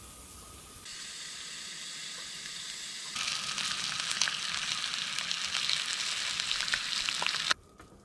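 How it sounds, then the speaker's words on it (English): Bacon fries in a pan at a January forest camp: a steady hissing sizzle that grows louder partway through, then suddenly drops at the end, with no one talking. "while I'm waiting for bacon to cook"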